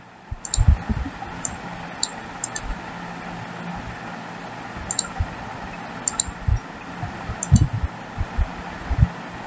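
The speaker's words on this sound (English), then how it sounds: "Right mouse click on the shape." Computer mouse clicks, sharp and close, occurring in small irregular clusters against a quiet background hiss.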